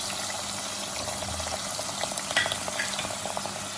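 Dry spices roasting in hot oil for aloo gosht salan, a steady dense sizzle with scattered crackles and a few sharper pops near the end, close and continuous with no talking.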